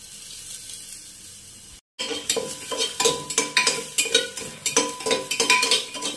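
Chopped chili, ginger, garlic and a bay leaf hit a little oil and start to sizzle after a short gap, with rhythmic stirring scrapes and utensil clinks over the frying hiss.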